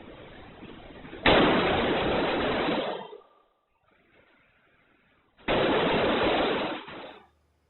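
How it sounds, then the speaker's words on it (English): Gunfire at a school shooting, captured on surveillance footage, comes in two dense, loud bursts of rapid shots, each lasting a couple of seconds, separated by a near-silent gap. "you will hear the sound of gunfire in this video"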